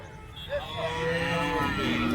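Cattle moo in long, drawn-out calls amid a busy outdoor market bustle at Santhipuram, Andhra Pradesh, with other animal sounds and faint voices in the background.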